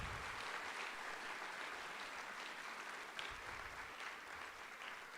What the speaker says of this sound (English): Please join me in a round of applause for these students demonstrating excellence in the classroom.